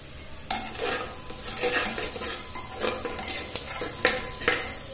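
Onions and chopped green chilies sizzle steadily in a pan for a chicken stew, with repeated stirring scrapes and clinks rising over the continuous frying hiss.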